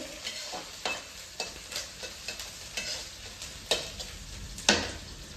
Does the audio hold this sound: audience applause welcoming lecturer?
no